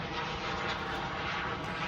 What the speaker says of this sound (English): We got a little plane flying ahead, so forgive that.